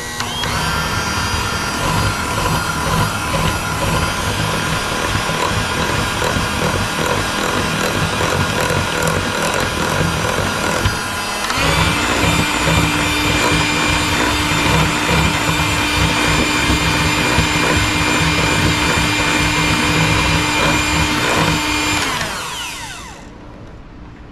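A stand or hand mixer whirs steadily through pineapple dessert batter of shortening, brown sugar, eggs, self-rising flour, vanilla and milk. The motor hum shifts pitch once midway, runs loud and close for about twenty seconds, then cuts off.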